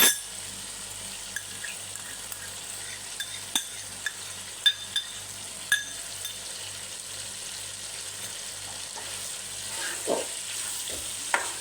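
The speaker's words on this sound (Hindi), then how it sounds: "इसको हम अच्छी तरह भूनेंगे।" Chicken with green chillies and half a cup of yogurt fries in a pan for a chicken kaddu curry, with a steady soft sizzle throughout and occasional light clinks of a utensil stirring.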